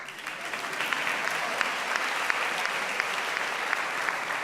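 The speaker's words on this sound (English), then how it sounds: "So please clap that one up." Sustained audience applause fills a town hall held by the Alameda County District Attorney, a dense, steady wash of many hands clapping at moderate distance with no speech over it.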